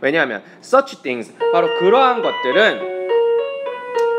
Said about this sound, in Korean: 종소리가 울려서 잠깐 끊었어요.